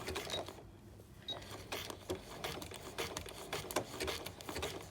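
A sewing machine stitches a machine appliqué quilt block, producing a faint, continuous rapid needle patter with slight shifts in speed and no speech.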